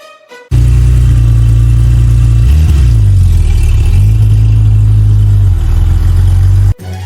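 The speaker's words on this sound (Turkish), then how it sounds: "Motosiklet giderken böyle ses çıkartır." A motorcycle engine runs at a steady, loud hum with a brief dip in pitch midway, then cuts off abruptly near the end.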